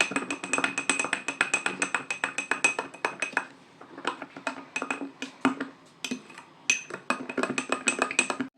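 A stirrer clinks rapidly against a glass of iced coffee, a quick run of bright metallic taps with a short pause midway before the stirring resumes.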